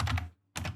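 Short burst of typing on a computer keyboard at a command prompt, a quick cluster of key clicks, a brief pause, then another cluster, close and fairly clear.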